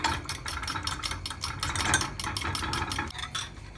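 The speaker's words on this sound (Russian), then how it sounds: "И опять перемешиваем." A utensil scrapes and clacks rhythmically against a bowl, quick repeated strokes of stirring close by.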